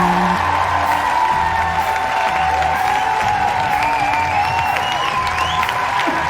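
Loud applause and cheering from a crowd at a live Catalan variety show welcoming performer Epic Neil, with whoops over dense clapping while music plays underneath.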